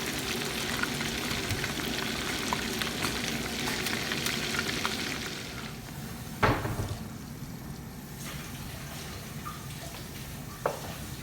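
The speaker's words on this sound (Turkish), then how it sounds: "Yağı bayağı bir kızdırdım." Hot oil sizzling in a pan, a loud dense crackle that thins after a few seconds into a quieter fizz broken by a couple of sharp pops.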